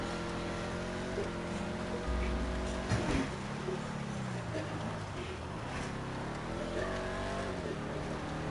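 Race car engines in a race in the video game GTA 5, steady droning and revving with rising and falling pitch, loud and continuous, with faint talk.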